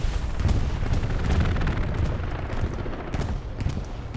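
A frag grenade explosion during a Hell Let Loose match on the Stalingrad map, heard as a continuous low rumbling din of blasts and gunfire with several sharp cracks toward the end, dense battlefield noise throughout.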